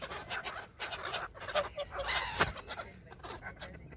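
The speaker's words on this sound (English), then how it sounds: "He has one goose here. And here comes the duck." Outdoor calls from ducks and geese in a loose, irregular series of honks and clucking squawks, moderately close, with a sharp burst midway and light background noise.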